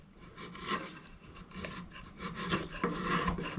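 Chisel paring and cleaning up a wood mortise, a close, quiet scraping and rasping in short uneven strokes, with no talk.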